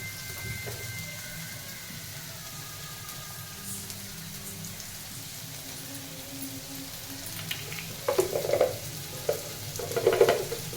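Bacchali leaves frying in a pan for a curry give a steady sizzle, joined near the end by a few louder clattering stirs.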